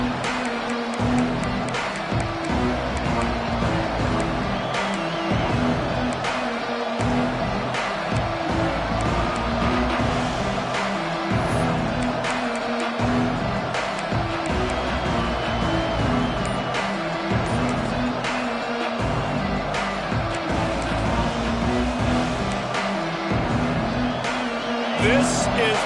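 Dense, steady roar of a large crowd filling a college football stadium at the opening kickoff, loud and continuous throughout, with a broadcast voice calling the game over it.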